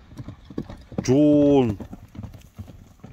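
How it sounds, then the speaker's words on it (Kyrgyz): A heavy, thick-bodied horse is ridden. Its rhythmic hoofbeats sound under almost constant nearby talk, and a man's loud, drawn-out call rises over them midway. "диртилдеген жоон атты мынакей туугандар чабып көрүп атабыз."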